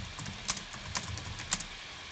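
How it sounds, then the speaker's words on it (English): A few sparse, soft keystroke clicks on a computer keyboard, typed while a streamer plays Ducktales Remastered, faint and close with a quiet background between taps. "Should probably type that in chat."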